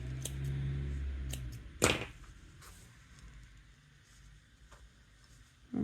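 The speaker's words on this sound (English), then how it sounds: "So slip stitch and cut them both off." A single crisp snip of scissors cutting crochet yarn, close and brief, followed by quiet handling noises and faint soft clicks.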